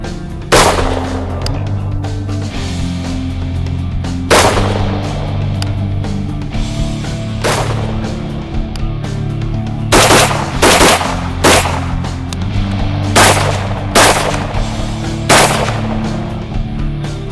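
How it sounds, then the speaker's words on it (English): An Axelson Tactical rifle fires at a target about 110 yards away, giving roughly ten sharp, loud reports spaced irregularly over about seventeen seconds. A steady low mechanical hum runs underneath the shots. "Got a target about 110 yards out. This is my first shot with the Axelson Tactical."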